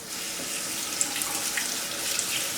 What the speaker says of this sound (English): Now I'm going to rinse off my grapes.